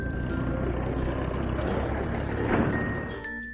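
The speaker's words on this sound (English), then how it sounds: "engine purred." A truck engine runs steadily with a low, broad rumble, close and continuous, with faint higher tones near the end and no talk.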